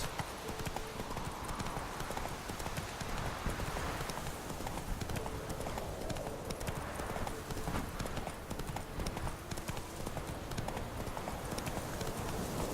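A horse gallops in the video game The Witcher 3. Its hooves beat in a fast, steady clip-clop that stays loud and close throughout.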